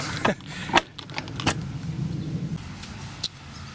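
Vehicle keys jangle in a few quick metallic bursts as they are pulled out, close and fairly quiet against a low background hum.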